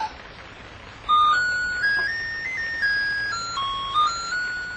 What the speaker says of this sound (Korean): 막 모시는 글의 폰트와 글자 크기를 수정했을 때 문 밖에서 벨소리가 들렸다.